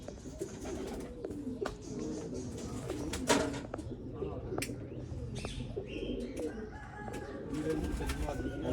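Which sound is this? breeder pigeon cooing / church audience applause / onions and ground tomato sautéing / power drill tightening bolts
breeder pigeon cooing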